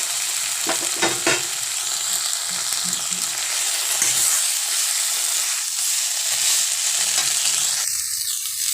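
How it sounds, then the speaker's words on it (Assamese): Cauliflower and potato pieces fry with spices and a little sugar in a pan, giving a steady close sizzle broken by stirring scrapes throughout, with no talking. "এতিয়া ভাজি ৰখা ফুলকবি আৰু আলুখিনি ইয়াতে দি দিলো"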